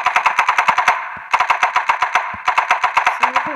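Rapid automatic gunfire from a video game: several sharp bursts of evenly spaced shots with short pauses between them, loud and close.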